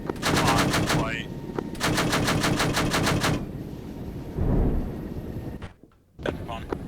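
Rapid bursts of aircraft cannon fire in a military flight video game, two long, loud, evenly pulsing volleys followed by a rushing whoosh and a brief drop-out, with voices talking over the action.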